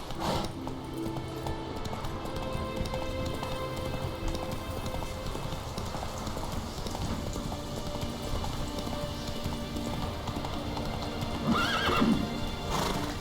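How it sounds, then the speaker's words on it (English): In The Witcher 3 video game, a horse gallops on in a steady run of hoofbeats under rain and ambient noise, with a whinny near the end. "Run, Roach"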